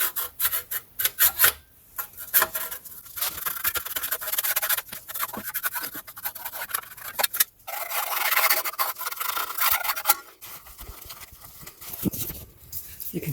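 A plastic tool scrapes and rubs dirt and rubber residue off bare metal on a Peugeot 308 during timing belt work: a close, steady rasping scrape in repeated strokes, with brief pauses near 2 and 7.5 seconds.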